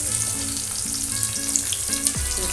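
Chopped onions frying in hot oil for a chicken dish: a bright, continuous sizzle close to the pan, steady throughout with a faint tonal hum underneath and no voices.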